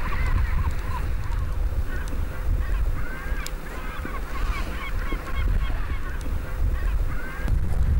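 Waterbirds, likely geese, honk in a steady overlapping chorus at Lake Khövsgöl, with calls coming thickly throughout over a constant outdoor background.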